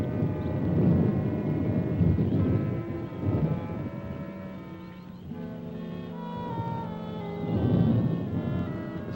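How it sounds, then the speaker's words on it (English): Thunder rolls as a long, low rumble that swells, eases and builds again over several seconds, with no one speaking. "Just thunder."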